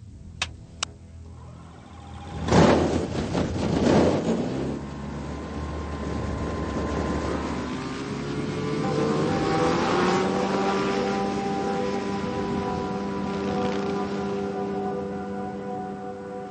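A small aircraft flies over the African wilderness, its propeller engine droning steadily with rising and shifting tones after a few sharp clicks and a rumbling start, moderately close and without voices.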